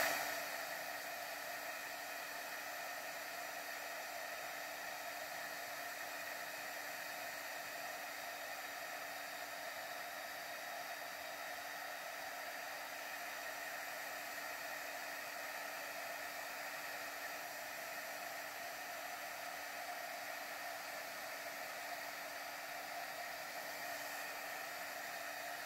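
A heat embossing tool preheats, blowing hot air with a constant, close whooshing hiss and a faint steady hum, unchanging for the whole stretch.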